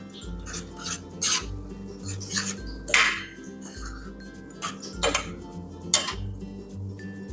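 A spoon stirs carrot halwa with khoa in a metal pot, producing repeated scraping and rasping strokes with occasional metallic clinks. The sound is close and steady, with no voices.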